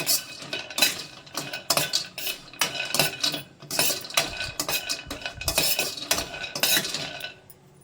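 Almonds are dry roasted in a pan without oil and stirred constantly, making a busy stream of close scraping and clinking utensil-on-metal sounds that fades at the end.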